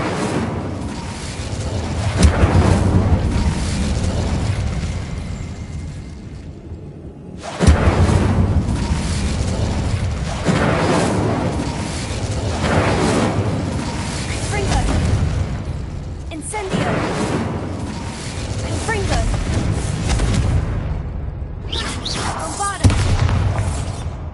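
Fire spell cast in the Hogwarts Legacy video game: booming, bursting magical blasts with deep rumbling impacts, sharp attacks near 7, 16 and 22 seconds over continuous roaring game sound, loud and close.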